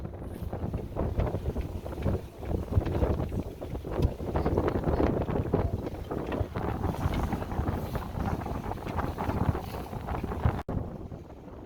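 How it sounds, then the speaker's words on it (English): Sailboat under way at sea off the east coast of Scotland, with steady wind buffeting the microphone and continuous rushing water along the hull, no voices. "got two crew on with us, Donna and Nick, and you'll see us sailing up the east coast of Scotland"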